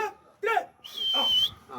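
A dog gives short whimpering yelps and a high whining sound in a few brief bursts, close by.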